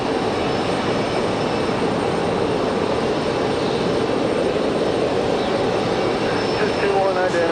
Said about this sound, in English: as we await the arrival of that F-15 once again